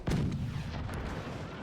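A deep boom from a cannon in the video game Forts fires once, followed by a rumbling low tail, then a couple of fainter pops.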